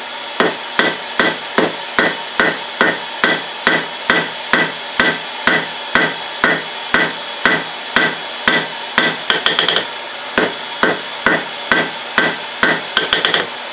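Hand-hammer blows forge-weld a Damascus steel billet, a steady run of sharp ringing strikes about two per second, close and loud, turning to a few quicker clustered taps near the end.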